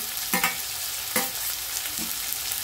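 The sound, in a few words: tomatoes frying with onions in a pan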